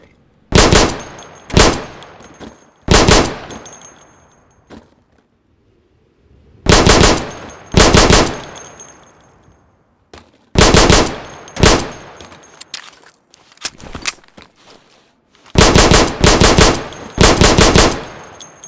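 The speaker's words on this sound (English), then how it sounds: "So you can shoot accurately over 20 feet with your sidearm." Video-game sidearm fired at pop-up targets in loud, close clusters of rapid shots, with several bursts separated by short silences and a faint metallic ring after some volleys.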